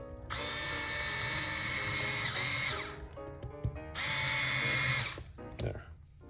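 A power driver whirs steadily as it runs button head screws into an RC short course truck kit, the Tekno SCT410.3, in two long bursts with a short pause between them and a few light clicks near the end.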